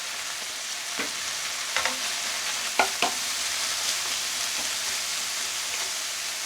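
Meat, onion and carrot stir-fry in a pan for teriyaki yaki udon, a steady close sizzle with a few sharp spatula knocks and scrapes, no voices.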